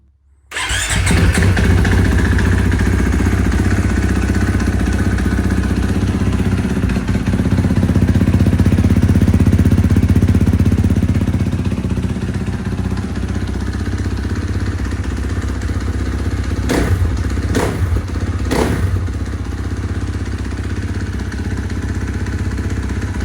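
A 2022 KTM 450 SX-F four-stroke dirt bike engine starts and runs loud and close, a steady rough mid-pitched roar that holds for over twenty seconds, with a few sharp throttle blips near the end.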